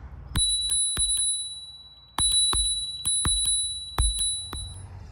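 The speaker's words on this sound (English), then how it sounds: "This is the bell right here." Bell on a Phantom GoGo A8 electric scooter, rung close up in several quick bursts of bright metallic dings, each ring lingering briefly, with short pauses between the groups.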